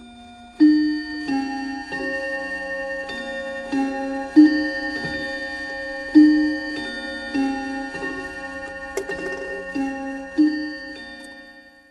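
A clock sounds with a steady series of evenly spaced, ringing strikes, each tone hanging on with a bright metallic sustain, loud and close with no voices.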